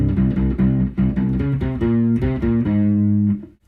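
A distorted, low-pitched power chord riff played on a U-Bass in short rhythmic stabs, ending on a held chord that cuts off abruptly.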